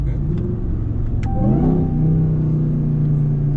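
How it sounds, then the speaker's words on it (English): Inside the cab of a stock RAM TRX, the supercharged Hellcat engine accelerates with a loud droning rumble, its whine sweeping upward in pitch midway and then holding steady, with no voices. "You instantly hear the supercharger. And this truck is completely stock."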